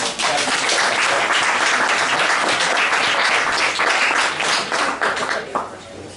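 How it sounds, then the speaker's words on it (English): Sustained loud applause from an awards ceremony audience, dense and even, tapering slightly toward the end. "A round of applause for the parents."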